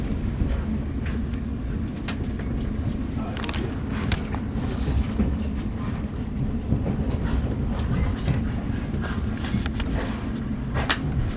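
A Virgin passenger train from Aberdeen to London King's Cross rumbles steadily along the track with a low, continuous roar and occasional rattling clatter, heard from inside a carriage.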